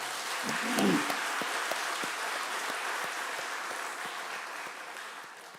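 A church congregation at a Sunday afternoon worship service claps for the children's praise team, a steady wash of applause heard from some distance that slowly fades, with scattered sharper claps.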